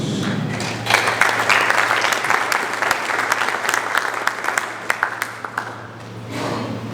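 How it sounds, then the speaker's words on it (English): A crowd at the opening ceremony of an African seniors squash championship applauds medal recipients, a dense, steady wash of clapping with a low hum beneath it, swelling after the first second and holding loud before easing at the end. "Let us give them a round of applause."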